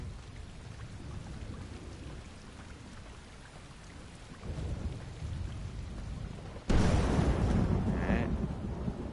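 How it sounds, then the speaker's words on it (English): A thunder and lightning storm in the video game V Rising rumbles under steady heavy rain, swelling midway and then breaking into a loud, close crack with a rolling roar near the end. "Holy lightning."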